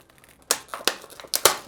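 Small product packaging is torn and crinkled open by hand in a few sharp, close rustling bursts.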